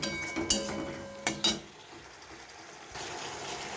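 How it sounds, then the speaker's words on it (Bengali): A spoon scrapes and stirs a tomato curry sautéing in a pan, with a few sharp clinks against the metal and a soft sizzle of frying underneath, close and fairly quiet. "যতক্ষণ না টমেটোটা গলে যায় ততক্ষণ আমি নেড়ে চেড়ে ভালো করে কষিয়ে নেব"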